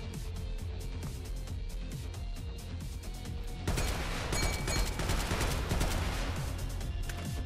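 Gunfire in the video game Synthetik sounds as a dense, continuous stream of rapid shots that grows louder and heavier partway through, with no talking.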